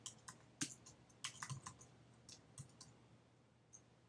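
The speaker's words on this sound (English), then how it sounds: "So I'm going to type the following." Keys on a computer keyboard tapped while entering HTML tags, a quiet, irregular run of near clicks in bursts, with pauses between groups of keystrokes and no voices.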